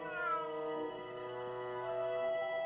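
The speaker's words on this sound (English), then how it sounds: "I hear a meow." A cat in the video game Grim Fandango gives a single drawn-out meow that fades into a steady sustained tone, heard close and clear against low game ambience.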